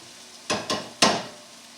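Onions and garlic browning in a pan, heard as three short bursts of stirring and sizzling, close and moderately loud, with a quieter background sizzle between them and no talk.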